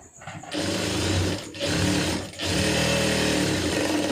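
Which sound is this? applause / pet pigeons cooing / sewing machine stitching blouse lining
sewing machine stitching blouse lining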